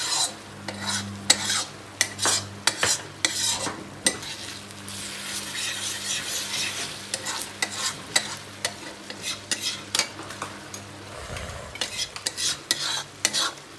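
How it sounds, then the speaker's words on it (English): Garlic sizzles in a hot pan for mutton rara while a utensil stirs and scrapes it, giving repeated close clinks over a steady frying hiss and low hum. "So here goes in the garlic."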